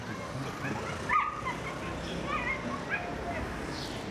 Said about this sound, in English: Listen to the dogs losing their mind.